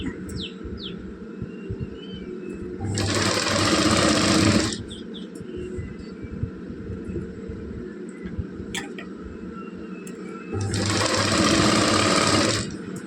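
A sewing machine runs in two steady bursts of about two seconds each while stitching thread piping, loud and close, with birds chirping faintly in the background between runs.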